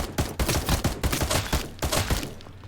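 Rapid bursts of assault rifle fire in the zombie survival game H1Z1, a dense, loud run of closely spaced shots that keeps going with only brief gaps before trailing off at the end.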